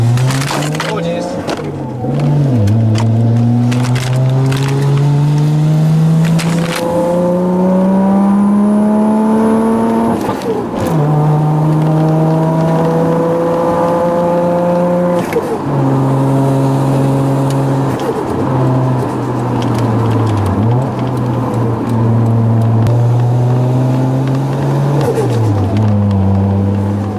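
A turbocharged manual car's engine revs up again and again while driving, each gear climbing in pitch before a shift drops it back, steady and loud from inside the cabin, with turbo whine and occasional background voice.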